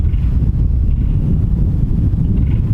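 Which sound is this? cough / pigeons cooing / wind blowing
wind blowing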